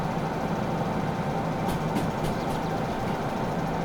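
An underpowered locomotive in Derail Valley runs at speed, a steady low rumbling engine drone with rail noise and a few brief clicks, continuous and even.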